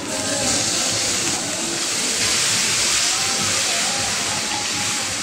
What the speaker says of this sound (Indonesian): Langsung masukkan air.